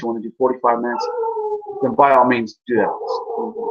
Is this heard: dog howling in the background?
yes